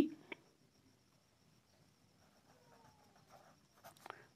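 Writing on a board during a class lesson on why stars twinkle: faint, scratchy strokes come in short bursts, louder near the end, in a quiet room.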